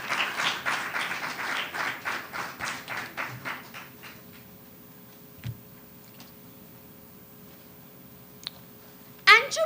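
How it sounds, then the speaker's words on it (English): At a high school debating competition final, a small audience gives scattered, distinct claps in a loose rhythm for a speaker heading to the podium. The clapping fades out after about four seconds into near silence broken by a few faint knocks. "Please give her a round of applause."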